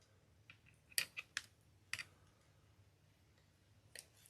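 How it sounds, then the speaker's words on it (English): Scissors trim pipe cleaners for craft tulips with a few quiet, crisp snips and clicks spread across a near-silent stretch. The cuts are close and faint, with no talking. "I'm going to take these and trim these up a bit"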